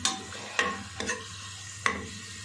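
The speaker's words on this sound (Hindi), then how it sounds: "अच्छे तरीके से इसको मैं थोड़ा फ्राई कर लूँगा" Chicken and cardamom frying in ghee, a soft low sizzle broken by a few sharp spoon scrapes and clacks against the pot, with no voices.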